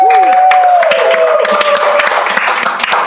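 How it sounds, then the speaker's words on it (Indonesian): A studio audience claps for guest stars from a motorsport community on an Indonesian talk show, brisk applause for about three seconds while a sustained tone and a voice sit over it. "Tepuk tangan untuk teman-teman bintang tamu"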